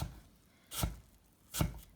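Two distinct, evenly spaced knife chops through an apple cut into thin slices on a cutting board, close and clear against quiet background.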